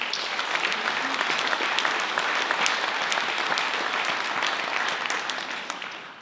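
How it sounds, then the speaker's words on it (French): An audience at a mayor's New Year address applauds medical professionals, many distinct hand claps merging into a steady ovation that gradually fades toward the end. "Vous pouvez les applaudir."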